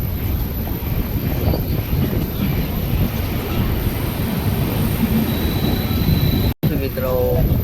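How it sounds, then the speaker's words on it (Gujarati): A metro train moves past in a steady, fairly loud rushing rumble, with a brief dropout near the end followed by a rising whine. "મેટ્રો જો જઈ રહી છે"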